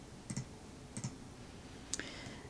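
A computer mouse clicks while someone navigates a web menu, giving three quiet, crisp clicks spaced about a second apart against faint room hiss, with no talking.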